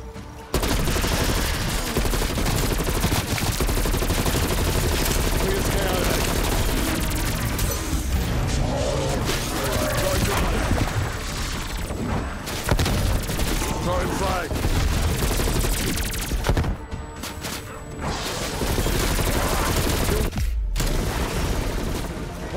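Submachine gun fire in Call of Duty Black Ops Cold War Zombies on the Firebase Z map: loud, sustained bursts of automatic shots with booms and crashes, broken by short pauses, while a player talks over it.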